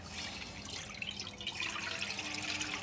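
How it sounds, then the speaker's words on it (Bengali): Water is poured from a mug into a pan on the stove for boiling raw mango, a soft continuous splashing pour close by and quiet, with no talk. "এটা এখন আমি পানি দিয়ে দিচ্ছি"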